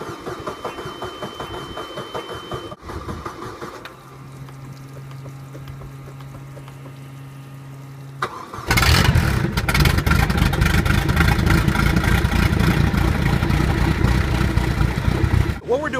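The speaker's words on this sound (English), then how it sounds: "we're running the boat on the muffs" Water gurgles and rushes for a while, then a Mercruiser 3.0 stern drive boat engine, running on flushing muffs, roars to life and runs loud and steady with a throbbing rumble.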